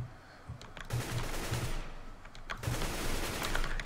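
Bursts of automatic gunfire and single shots from a one-on-one shooter video game match, loud and close, crackling in quick clusters with a few short gaps and no talking over it.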